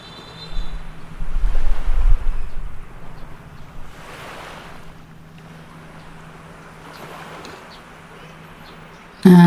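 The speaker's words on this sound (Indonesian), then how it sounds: "lihat denger derusan ombak tuh" Ocean waves at Pelabuhan Ratu beach surge and wash in at intervals, a soft rushing that swells and fades, ending with a sudden loud bump.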